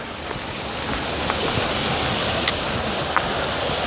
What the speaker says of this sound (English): There's a little spillway.